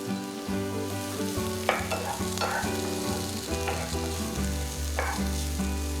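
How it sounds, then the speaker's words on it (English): Finely chopped garlic and onion fry in butter in a pan, a steady close crackling sizzle with occasional spits, while tuneful music plays underneath. "Next, add 1 large onion that's been finely chopped."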